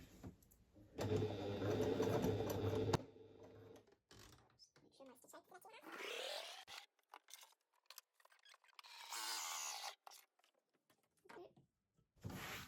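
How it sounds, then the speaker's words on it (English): A home sewing machine top stitching around the gusset of a fabric pouch in yellow thread, running in a steady buzzing burst, then quieter handling and shifting sounds with intermittent speech. "I'll be top stitching around the gusset"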